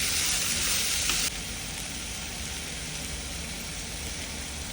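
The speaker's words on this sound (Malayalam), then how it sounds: "എന്നിട്ടൊരു 5 മിനിറ്റ് സോട്ട് ചെയ്യുക." Prawns and drumstick pieces sauté in a pan for a traditional Kerala konju muringakka theeyal, giving a steady, close sizzle that is louder for the first second and then settles into a softer, even hiss.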